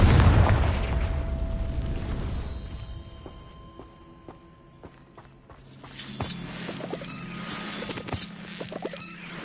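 The Confringo fire curse from the Hogwarts video game goes off as a loud booming blast that rolls away, then fades into faint crackles, pops and light footsteps.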